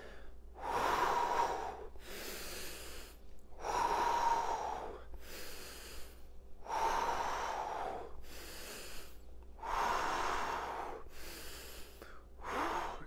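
Heavy rhythmic breathing during a home bodyweight workout, loud close inhales and forceful exhales alternating in a steady cycle of roughly six breaths, with no talking.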